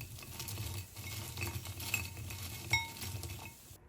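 Potato pakora ingredients with a pinch of black salt are stirred in a bowl, giving a soft, continuous scraping with faint light clinks, quiet and close over a low background hum.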